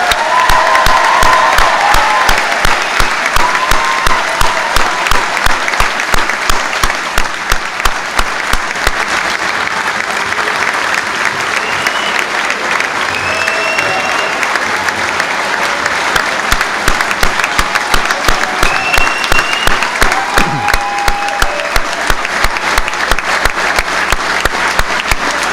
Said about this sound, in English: One more round of applause for the entire class of 2014.